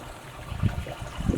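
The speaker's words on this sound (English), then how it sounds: "keep pouring vinegar on it until it's all dissolved." Vinegar glugs from a gallon jug onto Epsom salt, giving soft, close liquid splashes in two brief pulses with no talking.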